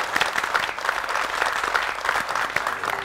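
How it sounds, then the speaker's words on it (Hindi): Continuous applause from a seated audience greets a speaker coming on stage at a retail business event, steady and moderately loud with no talking. "तालियों के साथ इनका स्वागत कीजिएगा।"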